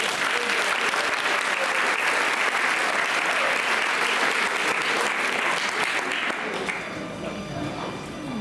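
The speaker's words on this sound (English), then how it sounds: "Let's give them a round of applause." A school dedication audience applauds a Ballet Folklorico dance group, a dense sustained wash of clapping from a large crowd that thins slightly toward the end.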